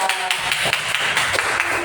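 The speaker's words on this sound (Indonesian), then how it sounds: "Beri tepuk tangan untuk kelompok 3" Classmates in a school classroom clap for a student group, a short burst of quick, fairly loud hand claps with some voices mixed in.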